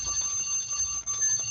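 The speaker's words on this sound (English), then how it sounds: "Let's reset my timer." A timer alarm rings during a sensory circuit exercise session, a steady high-pitched electronic beeping that carries on for the whole short stretch at moderate loudness, with no talking.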